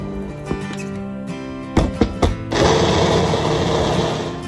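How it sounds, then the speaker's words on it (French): An electric blender purees baka for abolo, a rice-based dish. After a few short knocks the motor starts and holds a loud, steady whir to the end. "On va maintenant mixer notre baka."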